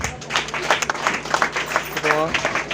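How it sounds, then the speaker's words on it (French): Scattered hand clapping from guests at a wedding ceremony, a brief burst of moderate applause with voices talking over it. "Applaudissez pour nous, s'il vous plaît."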